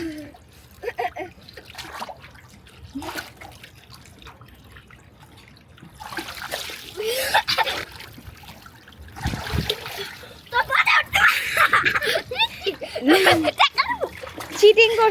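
Water splashes in a swimming pool as a father and son duck and dive under, with soft trickles building to loud, choppy splashes while a child and an adult talk throughout.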